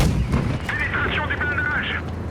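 An AMX M4 tank gun fires a single heavy, booming shot in World of Tanks Blitz, followed by a short rolling echo and clanking game effects, with a voice talking over it.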